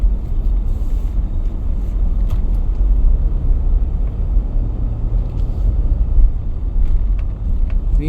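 A car idles and creeps through heavy afternoon traffic on Katipunan in Manila, a steady low engine rumble with road and wind noise filling the cabin, no voices.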